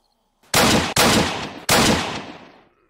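Three loud, sharp gunshots from the survival game Apocalypse Rising crack close by in quick succession, each with a short decaying tail, against otherwise near silence.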